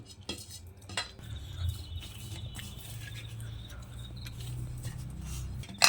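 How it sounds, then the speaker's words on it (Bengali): Flour dough for matar kachori is kneaded by hand with water added little by little, making soft squelching and pressing sounds with a few light clinks and faint background voices. "অল্প অল্প করে জল দিয়ে আমি ময়দাটাকে মেখে নেব"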